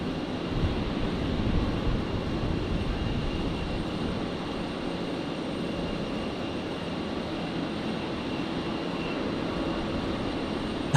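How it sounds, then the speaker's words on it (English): Qantas Link Embraer jet at Brisbane airport spooling up as its engine starts during pushback, a steady broad roar heard from a distance, constant and unbroken throughout. "The Qantas Link Embraer here, I can hear the engine starting up"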